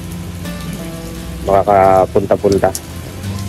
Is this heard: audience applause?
no